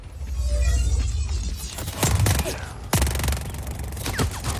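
Gunfire in the video game Just Cause 4: a dense burst of shots and sharp cracks over a rumbling, busy background, with several loud impacts near the end.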